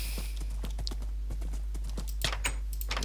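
Horse hooves clip-clop in a steady, fairly quick walking rhythm in a video game, close and distinct, with faint background ambience and no talk.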